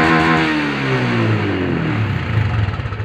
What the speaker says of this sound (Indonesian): dengar bunyi enjin dia